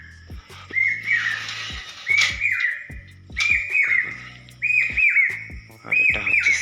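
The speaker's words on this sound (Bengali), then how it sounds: "আর বাইরে পাখিও ডাকছে।" Birds call outdoors in the morning with repeated bright, whistled chirping phrases about once a second, clear and fairly close, over a quiet background with a few soft clicks.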